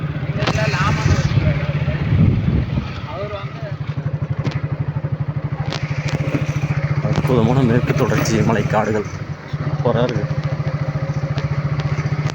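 A motorcycle engine thrums steadily at close range throughout, in a forest near Sathyamangalam and Kadambur, while someone talks over it.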